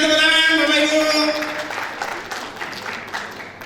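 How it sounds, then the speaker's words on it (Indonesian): Applause from an audience at a gathering swells into a steady, noisy wash of clapping after a brief sustained tonal sound fades out at the start. "Berikan tepuk tangan Bapak Ibu."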